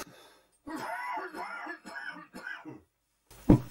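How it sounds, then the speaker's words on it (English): A person coughs hard in a series of rough, throaty bursts, close and fairly loud, with brief gaps between them and a sharp final cough. "I'm just going to cough a second."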